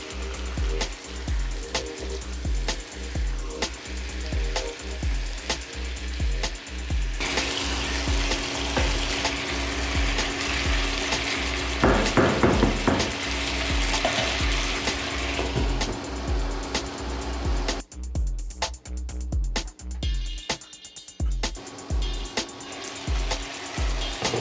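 Chicken pieces for a Bengali curry fry in a pan with steady loud sizzling, broken by repeated scraping and clattering as a utensil stirs them, close and continuous, no voices.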